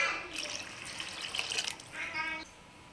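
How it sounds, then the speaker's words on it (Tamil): Water pours into a simmering vaaval meen (pomfret) fish curry with tamarind water, a soft splashing trickle lasting about two seconds before tapering off, fairly quiet and close. "இந்த ஸ்டேஜில் நம்ம இது கூட வாட்டர் ஆட் பண்ணிக்கலாம்"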